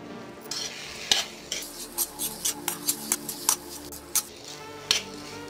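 Potatoes roast and get stirred with spices in a hot pan for bread pakora filling, with a steady sizzle under repeated sharp scrapes and clinks of a spoon against the pan, close and alone.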